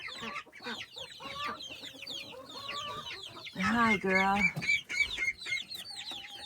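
Chickens cluck and chatter nearby in a busy burst in a chicken courtyard in the morning, with a louder bout of fowl calls midway, while a person speaks briefly over them.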